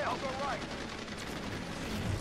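Gunfire in the Call of Duty WWII video game, a dense, continuous rattle of battle noise at moderate level with a voice briefly heard over it at the start.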